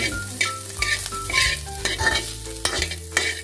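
Pork fat frying in a pan while a utensil stirs it, with sizzling, scraping strokes and clatters in quick bursts nearby.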